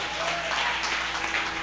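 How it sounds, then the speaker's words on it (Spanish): A church congregation applauding together, a steady even wash of clapping that fills the whole moment without break. "Dele palmas al Cristo de la gloria."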